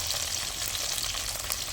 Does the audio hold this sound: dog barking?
no